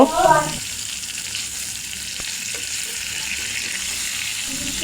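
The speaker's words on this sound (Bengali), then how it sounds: "তো মাছটা ভাজা হইতে থাক" Fish fries in a pan of oil, turned to cook its other side, producing a continuous loud hissing sizzle after a brief louder burst at the start.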